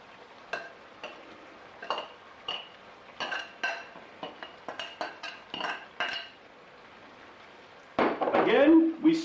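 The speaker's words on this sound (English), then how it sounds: "we smooth the onions into the oil so they have a nice, even cook" Onions being stirred into hot oil in a pan for a Spanish tortilla with potatoes: a run of soft scraping and clinking utensil strokes, then a louder burst of sizzling near the end.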